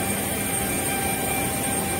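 Steady, loud roar of an airliner just after landing at Porto Seguro airport, a continuous broadband engine rumble heard close up without pauses.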